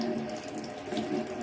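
Water runs steadily from a tap, a constant close splashing hiss with no pauses and no talking.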